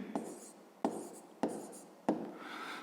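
A pen writes out a fifth-grade math equation solution on paper in four quick, distinct scratchy strokes separated by short pauses, close and fairly quiet, with no speech.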